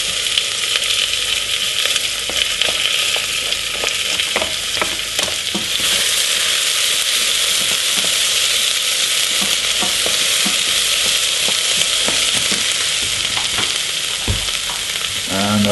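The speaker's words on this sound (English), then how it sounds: "we're going to fry off our onions" Onions for a lasagne sauce fry in oil heated to about 180 degrees, a dense continuous sizzle with scraping stirs of a utensil against the pan, close and steady, no voices.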